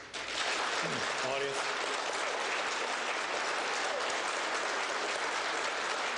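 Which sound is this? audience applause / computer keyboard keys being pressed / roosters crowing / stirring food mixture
audience applause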